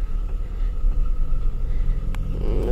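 VW Caddy driving to the fields, heard from inside the cabin as a steady low engine and road rumble with faint rattles, no talk.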